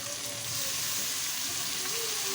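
Ginger, garlic and tomato frying in a pan for aloo chicken, a steady close sizzle with faint clinks and stirring sounds throughout.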